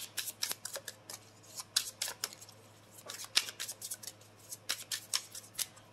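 Oracle cards are shuffled by hand in a quiet room, giving a steady run of quick, crisp flicks and soft slaps at close range, with no voice.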